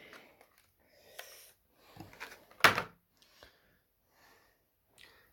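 Hornby Q6 model locomotive's cardboard packaging box being opened, a sharp close scrape and thump of the lid coming up after a few soft rustles, then quiet.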